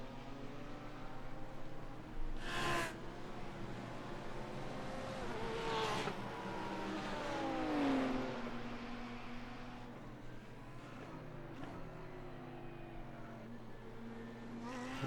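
A GT3 race car in a racing video game drives steadily, its engine note rising and falling as it picks up speed after an off-track moment, with a brief sharp burst early on and a continuous moderately loud drone.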